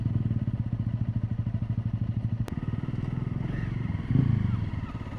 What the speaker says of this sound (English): I got a noisy motorbike up behind me